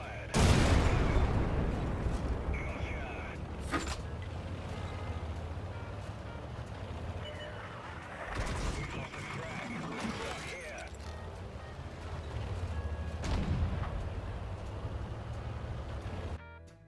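Artillery fire and explosions in the tank video game World of Tanks: a heavy boom at the start and several more blasts later over a rumbling engine drone and game noise.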